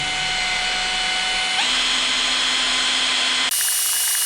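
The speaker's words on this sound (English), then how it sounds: "I had to pay extra for the speed setting on this drill." A variable-speed power drill whirs steadily at high pitch, shifting speed partway through before cutting out abruptly, loud and close while mixing two-pack boat paint.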